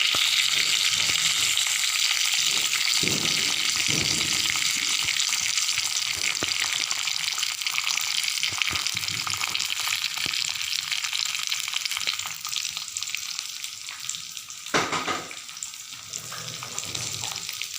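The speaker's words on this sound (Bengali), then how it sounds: "তো এখন আমি গাজরগুলি আগে তুলে দেবো, সবজিগুলি একটু ফ্রাই করে দেবো।" Carrots and mixed vegetables fry in oil with a bay leaf for vegetable pulao, giving a continuous close, loud sizzle with occasional stirring clatter and a brief swell partway through, and no voices.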